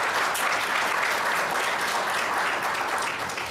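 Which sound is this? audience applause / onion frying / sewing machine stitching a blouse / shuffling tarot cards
audience applause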